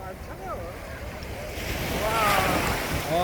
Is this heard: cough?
no